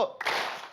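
A studio audience at a Siraman Qolbu religious talk claps once together on cue, a single loud smeared burst of many hands that trails off within the second.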